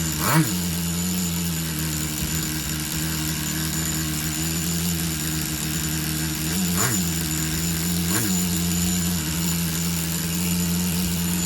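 The nitro engine of a Tamiya TGS-R Subaru on-road RC car idles with a steady, buzzy drone throughout, with a couple of brief revving blips rising and falling along the way.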